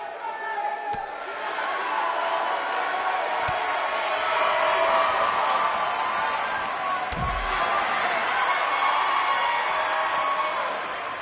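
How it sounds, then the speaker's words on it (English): A large arena crowd roars and cheers in WWE 2K19, a sold-out wrestling match, a steady swelling wall of crowd noise with a few sharp slams and thuds cutting through. "We have a sold-out, record-setting crowd here."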